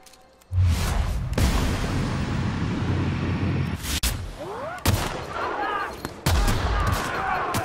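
Gunfire and explosive blasts from the video game The Outer Worlds, loud sustained bursts broken by sharp cracks, with a voice talking briefly amid the shooting.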